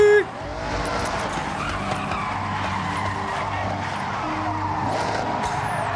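A racing video game car with its turbo winding up below 2000 revs and tires skidding, heard as a continuous engine drone and screeching rubber, close and loud throughout.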